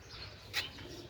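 A pigeon coos briefly on a large village rooftop where pigeons are kept, one soft call standing out faintly against quiet outdoor background.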